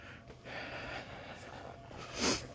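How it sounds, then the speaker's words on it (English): Quick nasal sniffs and breathy snorts come close up in a laundromat, from sneezing caused by dryer dust, ending with one sharper, louder sniff. "I'm sniffling because I've been sneezing from the dryer dust."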